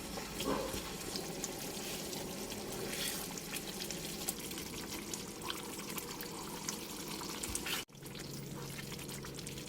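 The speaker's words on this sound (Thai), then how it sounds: "ก็ปล่อยให้เขาเดือดต่อไปอีกค่ะ ประมาณสัก 5 นาที" Black pepper sauce boils in a pan with a steady bubbling, sizzling hiss that runs continuously at moderate level. It breaks off briefly near the end, then resumes with a lower hum.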